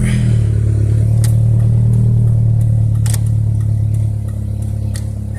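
A 1995 Ford Ranger XLT with a 5-speed manual transmission idles loudly and steadily just after starting, a low droning hum with faint clicks and rattles, no voices over it.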